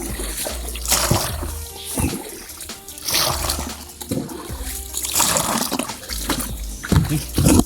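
Liquid is poured into a crayfish burrow in muddy ground, giving close, uneven gurgling, splashing and trickling that comes in irregular surges, with no speech.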